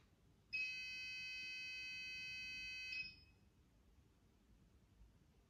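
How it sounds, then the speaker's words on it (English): A single electronic beep, shrill and steady, holds for about two and a half seconds over a quiet room hush and then cuts off, with no voices. "Maybe sorry about the beep."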